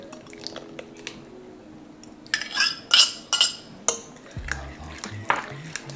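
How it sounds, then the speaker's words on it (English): Egg and melted butter from half a stick being mixed in a bowl for banana bread: a few sharp, close clinks and scrapes of a utensil against the bowl, in bursts over a quiet background, with a brief low thump near the end. "Give this a nice mix"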